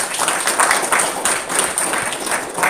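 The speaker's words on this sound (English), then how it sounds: "Can we give him another round of applause?" A round of applause at a Spring Lake Board of Aldermen council meeting, a roomful of people clapping steadily and fairly loudly for nearly three seconds without pause.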